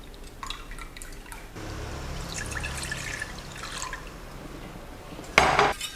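Cold brew coffee poured into a pot, a steady close liquid stream with a drippy, splashing wash, ending in a short, louder clink of the pot.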